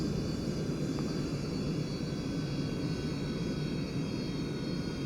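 An airliner landing at Key West in a home-cockpit flight simulator, with spoilers and thrust reversers deployed: a steady, even engine roar and hum with no voices.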